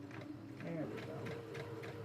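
A sewing machine runs slowly stitching a French seam in slinky fabric, a faint rhythmic whirring tick of the needle under quiet talk.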